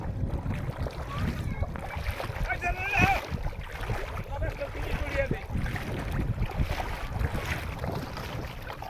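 A country ferry boat crossing the Brahmaputra river: steady wind and water rush with a low engine-like rumble throughout, and faint voices in the background.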